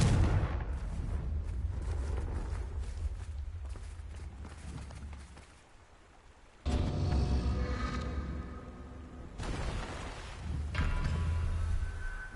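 The Confringo blasting spell in Hogwarts Legacy goes off as a series of loud blasts, with one sharp burst rising out of a quieter stretch, mixed with running footsteps and other game noise.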